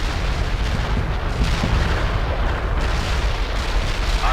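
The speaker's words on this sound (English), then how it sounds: "Artillery barrage hit for full effect" An artillery barrage in World in Conflict, a continuous roar of overlapping explosions and deep booming impacts, loud and dense throughout with no gaps.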